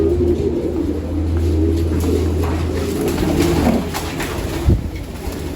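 Pigeons in a racing pigeon loft coo steadily and continuously at close range, a low murmuring chorus with a brief louder flutter near the end.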